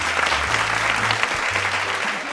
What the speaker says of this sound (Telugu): క్లాప్స్ ఒకసారి